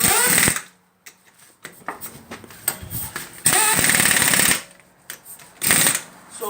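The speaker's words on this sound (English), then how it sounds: "after I'm gonna use my air gun pressure" A pneumatic air impact gun tightens wheel nuts during a brake pad job on a 2004 Lexus, firing in three loud, buzzing bursts of roughly a second each, with quieter workshop noise between them.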